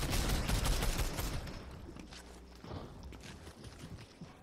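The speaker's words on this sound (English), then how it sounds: "I'm getting shot from behind" A burst of rapid gunfire in the video game Fortnite, loud and dense at first, then thinning into scattered shots and footstep-like clatter as the volume drops off.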